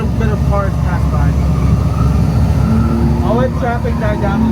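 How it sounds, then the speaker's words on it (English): Cars pass by at a hot-weather drift event, engines droning and rising as they go past nearby, with people talking over the steady motor noise. "We're gonna let a little bit of cars pass by."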